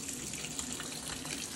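Broken shower in a bathroom at high altitude in Jujuy, its water running as a steady, dense rush that continues unbroken through the short clip with no voices.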